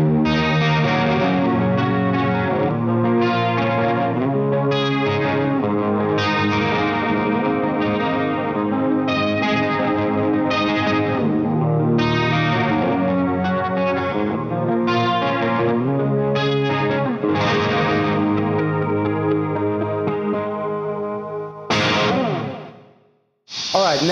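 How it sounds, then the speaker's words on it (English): Electric guitar through a Rocktron Reaction Series chorus pedal, shimmering, wavering chorused chords and lines played continuously at high level, ending with a brief drop and a noisy amp tail. "continuing with the Rocktron Reaction Series line, next up we have the chorus."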